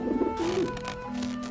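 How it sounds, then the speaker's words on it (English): Pigeons in the video game Grim Fandango coo, one low, warbling, throaty call that rises and dips over a steady hum, close and moderately loud, with no talking. "Run, you pigeons!"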